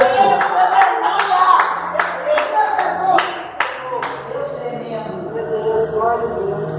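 Church congregation clapping at a Pentecostal service, a steady run of loud sharp claps through the whole stretch, with voices and a low musical hum underneath.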